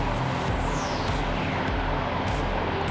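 Light aircraft engine at full power during a night takeoff roll down the runway, a steady loud broadband roar with a sweeping whine, continuous and close throughout.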